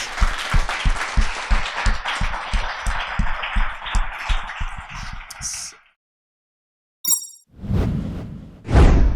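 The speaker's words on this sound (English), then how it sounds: "can we please give them one final big round of applause?" A debate audience gives a big round of applause for two debaters, Gila Manolson and Jill Filipovic, loud dense clapping for about six seconds before cutting off, then brief quiet and a short burst of other noise.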